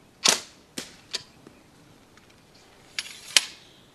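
A homemade sling crossbow fires with sharp snapping releases, several crisp cracks spaced apart including a close, loud pair near the end, in an otherwise quiet space.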